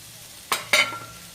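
A spoon stirs turmeric into mung bean chutney in a pan, making two quick scraping strokes close up over a quiet background hiss.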